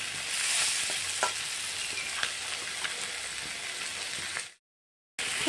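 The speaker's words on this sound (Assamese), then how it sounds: "এনেদৰে মই 2-3 মিনিটমান মছলাৰ লগত এনেদৰে ভাজি ল'ম" A fish head fries with spices in a hot pan, sizzling, with occasional scraping stir clicks, before cutting abruptly to a brief silence near the end.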